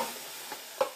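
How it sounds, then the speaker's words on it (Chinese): Green beans are dry-fried in a wok with no oil, giving a soft, faint scraping and stirring with two brief louder bursts of sizzle and clatter. "锅里不放油，先将豆角下锅煸"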